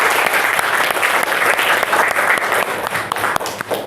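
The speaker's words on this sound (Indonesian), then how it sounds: "mari kita kasih aplaus kepada 2 kelompok yang telah mempraktekkan mengafani jenazah tadi" Students in a classroom applaud steadily, a dense, loud wash of clapping held for several seconds with no pauses.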